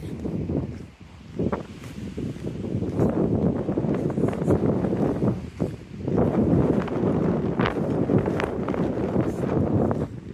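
Strong wind at a park buffets the microphone in a steady, heavy rumble with gusts rising and falling, plus some rustling, and no voices.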